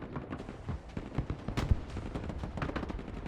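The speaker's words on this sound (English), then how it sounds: "they're popping mortars from everywhere over here" Mortar fire in the real-time strategy game Broken Arrow during a night battle, a faint, busy spread of distant thumps and pops layered with rattling gunfire, irregular and continuous under the mix.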